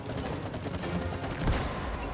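Rapid gunfire from shooting at a giant beetle in the co-op video game It Takes Two, a dense continuous rattle of shots with a slightly stronger burst midway, fairly quiet and unbroken.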